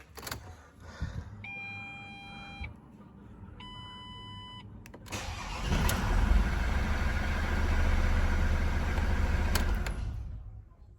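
A Mk7 Ford Transit engine cranks and fires up when a long wire runs straight from the battery to the starter motor, then settles into a steady idle. A few faint beeps come first, close by, with no talking.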